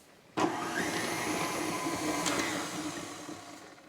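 Electric mixer beating butter in a bowl, starting abruptly then running as a steady motor whir with slight wavering, close and loud with no talk.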